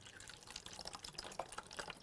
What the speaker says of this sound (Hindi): इस छेद को अंगुली से बंद करके इसमें इस पानी को डालते हैं